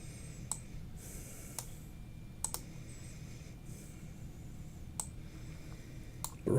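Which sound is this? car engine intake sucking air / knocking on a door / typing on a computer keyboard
typing on a computer keyboard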